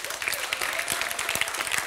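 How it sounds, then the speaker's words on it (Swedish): Warm audience applause at a science slam event in a hall, a short burst of steady clapping from the crowd with no pauses, moderately loud and close. "de är värda en stor applåd redan nu"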